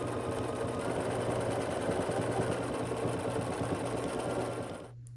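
A domestic sewing machine quilts straight lines across a hot pad, its motor whirring in a continuous, steady chatter close by before stopping abruptly at the end.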